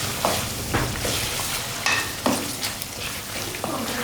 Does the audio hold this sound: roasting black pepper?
yes